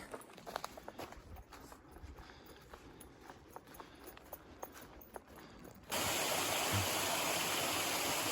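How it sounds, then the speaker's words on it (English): Mountaineer Falls on the Appalachian Trail: quiet woodland footsteps and faint trickling give way, suddenly and loudly, to a broad, constant roar of falling water close by. "This is Mountaineer Falls."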